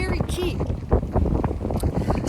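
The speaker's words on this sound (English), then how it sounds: "it's getting windy here" Outdoor wind gusts buffet the microphone in a steady low rumble, with broadband rushing noise running under nearby speech throughout.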